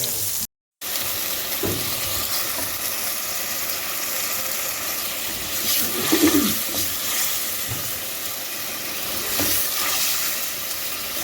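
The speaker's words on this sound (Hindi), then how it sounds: "ये देसी घी में अदरक डाला" Ginger tempered in hot desi ghee for hareesa gives a steady, close sizzling hiss that holds with only a brief dropout near the start.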